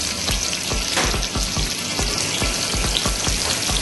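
A knob of butter sizzles in a hot pan, giving a steady close hiss and crackle with soft, regular low thumps throughout and no voices.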